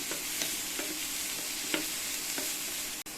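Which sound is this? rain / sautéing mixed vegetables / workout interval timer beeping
sautéing mixed vegetables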